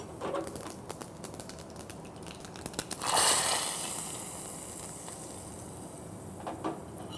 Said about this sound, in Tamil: கொஞ்சமாக நெய்யை விட்டு கடுகு போட்டுண்டு தாளித்து கொட்டிட்டோன்னா கடுகு பொரிஞ்சுடுத்து.